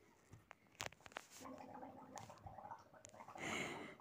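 A child gargles water to mimic a boiling volcano, a bubbling, rattling gurgle running for several seconds up close with breathy snorts mixed in.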